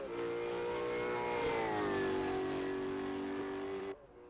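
A Red Bull Formula 1 car engine in the Assetto Corsa racing game holds a steady, high-pitched whine that sags slightly in pitch, loud and continuous for about four seconds before cutting off abruptly.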